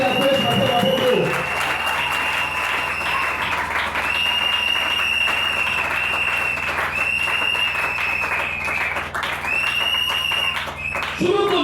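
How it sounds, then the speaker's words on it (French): A church congregation applauds during a service, loud sustained clapping that rolls on throughout, with tonal sounds and voices mixed in over it. "Acclamons le Seigneur Jésus-Christ"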